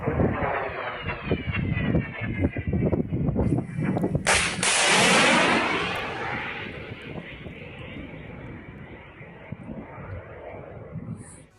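Russian missile strikes on Kyiv, with Zircon and Kinzhal missiles reported, produce a loud roaring rush and heavy blasts mixed with sharp cracks, then fade into a long rumbling tail heard from a distance.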